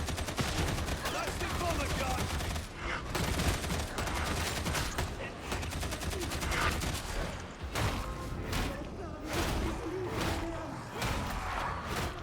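Rapid automatic fire from the Graia gun in the Darktide video game, a dense continuous rattle of shots with brief pauses, loud and close, occasional voice underneath.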